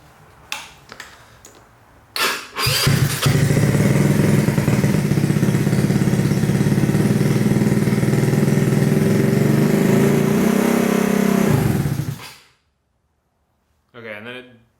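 A Honda Ruckus scooter engine with the choke on cranks after a few clicks, catches and idles loudly and steadily for about ten seconds, then cuts off abruptly, followed by silence and a brief voice.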